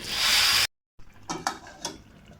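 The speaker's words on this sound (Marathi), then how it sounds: "पाणी घालून घ्यायचं" Water pours into a pot of varai (barnyard millet) with peanuts and salt: a loud, steady rush that stops abruptly after under a second, followed by silence and then a few soft clinks and knocks.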